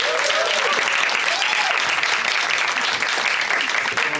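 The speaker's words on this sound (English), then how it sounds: "can we have a big round of applause for Caitlin and Emma" A big round of audience applause at a Women in B2B SaaS Sales event greets two presenters, Caitlin and Emma, with steady, loud, even clapping filling the room throughout and a faint whistle or voice above it.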